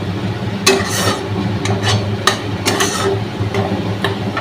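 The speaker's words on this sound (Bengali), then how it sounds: "চলো এটা একটুখানি কষিয়ে নিই, তারপর আলু ডিম সব দেবো।" Curry sautéing in a pan before potatoes and eggs go in: a spatula scrapes and taps the pan in irregular clicks over a soft, continuous low cooking hum. No talk.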